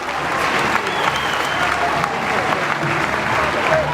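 An audience claps steadily at an amateur boxing final in Clermont, dense continuous applause from a crowd filling the hall throughout.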